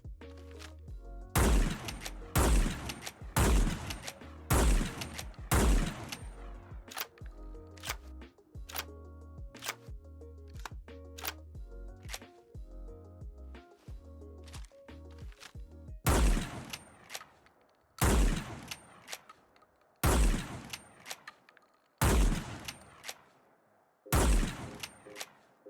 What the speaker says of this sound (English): check out the lever action shotgun.